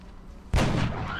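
A single loud, booming gunshot in the XCOM: Enemy Unknown strategy game cracks out after a quiet moment and rings on with a trailing rumble.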